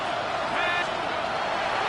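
A stadium crowd at MetLife in the Madden 26 American football video game, a steady, broad roar of many voices lasting throughout.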